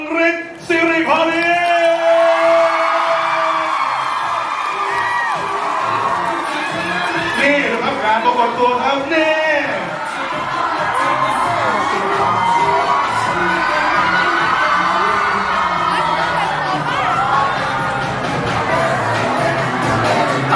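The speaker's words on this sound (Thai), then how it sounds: "ขอเสียงปรบมือต้อนรับริบเรือ" A crowd at a birthday event cheering, whooping and shouting to welcome an arriving guest, loud and continuous throughout, with children's voices and excited chatter mixed in and a voice talking over the noise.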